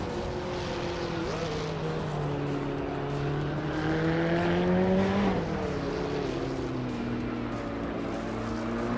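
Race cars in a video game race, including a 1986 Porsche 961, engines droning and shifting pitch steadily as they run close together, loud and continuous without talk.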